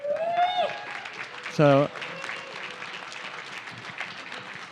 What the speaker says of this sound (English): they deserve way more applause